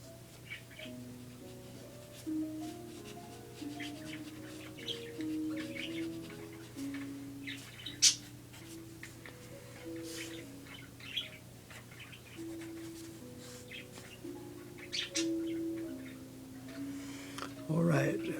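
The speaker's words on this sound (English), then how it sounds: "Nice chirping, guys." A pair of lovebirds chirp and tweet indoors in quick, bright bursts scattered through a long stretch, over a faint electrical hum and a soft ticking sound.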